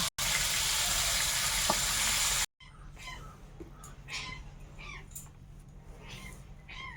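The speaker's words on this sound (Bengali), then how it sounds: "মাছ তো ফোটবে কোনে তা চটপট চটপট করছে" Fish frying in oil in a kadai crackles loudly at first, then after a brief cut a quieter sizzle continues with scattered pops under a voice.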